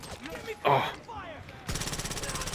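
Simulated gunfire crackles as a rapid, rattling burst of shots near the end, after an earlier sharp impact and some scattered voices.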